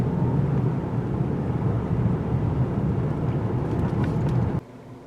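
A 2019 GMC Acadia AWD SLT driving in sport all-wheel drive mode gives a steady, loud low road and engine rumble that runs without a break and drops away sharply near the end.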